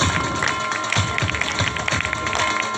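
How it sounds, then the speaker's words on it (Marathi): Students and guests clap for the winners at a school science exhibition at a government ashram school, a dense, continuous patter of many hands at moderate loudness. "जोरदार टाळ्या झाल्या पाहिजेत"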